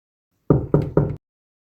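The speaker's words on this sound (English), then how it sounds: "I'll get the door, Eva." Three firm knocks on a door in quick, even succession, close and loud, followed by silence.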